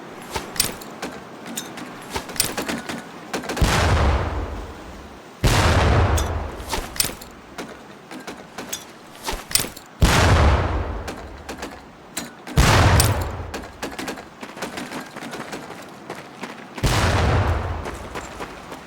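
Training grenades in Medal of Honor: Pacific Assault explode one after another at the range, five or six loud booms spaced a few seconds apart, each with a decaying rumble, over faint background clatter.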